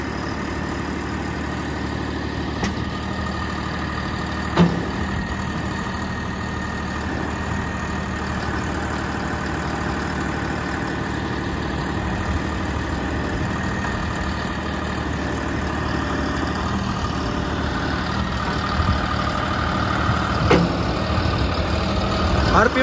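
A John Deere 5310 tractor fitted with a backhoe loader attachment idles steadily, a low diesel rumble holding constant throughout with a couple of brief clanks.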